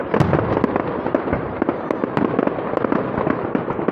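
Golden fireworks bursting at the Blackpool fireworks championship, a dense barrage of loud crackling explosions and sharp bangs overlapping continuously, with no voices over them.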